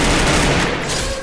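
A rapid burst of automatic rifle fire, a Scar, in Free Fire battle royale gameplay, loud and dense, then tapering off within about a second.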